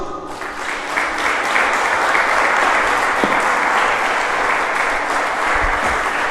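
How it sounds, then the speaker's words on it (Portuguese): A church congregation breaks into loud, sustained applause that fills the room steadily from start to finish, a dense wash of many hands clapping together with no voices rising above it. "Você pode aplaudir Jesus?"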